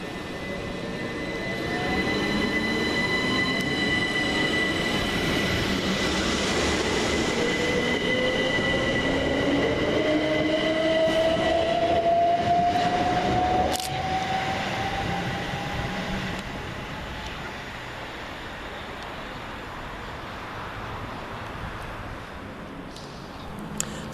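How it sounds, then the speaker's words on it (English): A Southern Class 377 electric train passes through Southwick station, a steady rolling rumble with rising wheel squeal and motor whine building and then fading as it moves away, no voices. "we start with 377124, working the 1229 Southern service from Littlehampton to Brighton."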